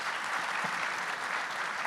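Steady applause from a conference audience at ETHGlobal Istanbul 2023 fills the room as an even, sustained crowd clapping with no speech over it.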